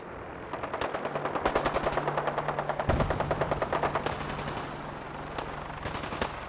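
Rapid automatic gunfire in the video game Fallout 4, long bursts of loud, close shots in quick succession, then a few scattered single shots.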